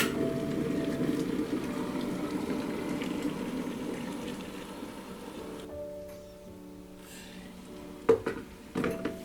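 Boiling water is poured from a kettle into a teapot for Chinese or Japanese tea, a steady liquid rush that fades away, followed by a few light ceramic clinks of the pot and lid.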